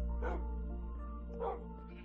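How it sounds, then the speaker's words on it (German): Dog barking in the Minecraft video game, two short yips about a second apart, heard over a steady low game hum with no talking. "ich bringe nochmal einen Hund mit"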